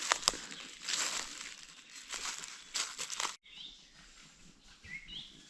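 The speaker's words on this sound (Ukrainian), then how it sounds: "з краєчку ліса так пташки співають." Small birds sing and chirp at the edge of a forest during a mushroom-picking walk, faint scattered calls over rustling footsteps and crinkling close to the microphone.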